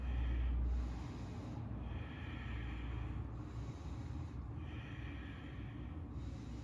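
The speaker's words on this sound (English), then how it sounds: "Ujjayi breath. Notice if it's anything like mine, getting super strong and pretty choppy actually." Strong, choppy Ujjayi yoga breathing comes in slow, regular cycles, each a raspy airy inhale or exhale through a constricted throat, heard up close and quiet with no speech.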